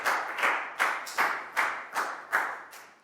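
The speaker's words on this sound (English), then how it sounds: "High five and a big round of applause for Pak Bung" A classroom of children applauds a pupil during a maths lesson: seven or eight rhythmic bursts of clapping, close and moderately loud, with no talking.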